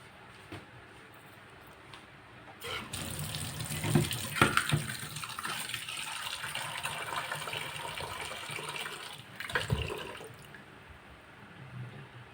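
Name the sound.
water running from a tap to cook jumbo Indomie noodles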